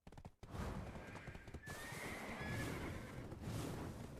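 A horse in a video game gives a loud, drawn-out neigh with faint hoof clatter. No one speaks.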